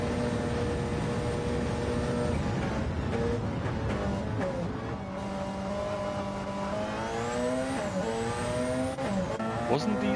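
Race car engine in Gran Turismo 7 running flat out down a straight, a steady loud drone with rising gear-change sweeps and brief tire noise, with a voice talking over it.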